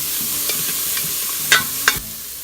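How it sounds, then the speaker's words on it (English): Chopped onions sizzle in oil in an Instant Pot on saute, a steady close frying hiss broken by a few sharp scrapes and taps of a stirring spoon. "So saute till onions turn light golden in color."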